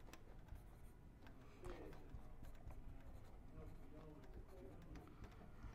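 A pen scratches across a paper March Madness bracket, faint and close, with soft continuous scribbling strokes over a quiet room background.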